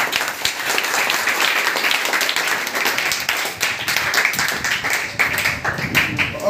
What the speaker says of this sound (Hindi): बहुत बढ़िया, एक बार ताली बजा दो।